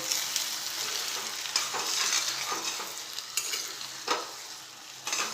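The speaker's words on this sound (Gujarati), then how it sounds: "હવે એમાં આપણે સેવ એડ કરી દઈશું હવે એકદમ સ્લો ગેસ રાખી ને હળવા ત્યારે તે મિક્સ કરી દઈશું આપણે" Wheat sev is stirred into melted jaggery in a pan over a low flame, with a steady soft sizzle and swishing scrapes, punctuated by a few sharper taps of the utensil.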